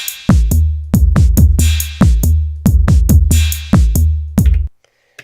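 An Elektron Analog Rytm Mk2 drum machine plays a loud, punchy pattern of boomy kick-like hits with bright transients, arriving in quick rhythmic groups over about four and a half seconds before cutting to silence.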